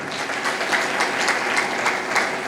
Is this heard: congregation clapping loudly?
yes